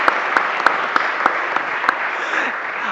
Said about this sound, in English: So can we give a round of applause to candidate number 2, John Dupuis?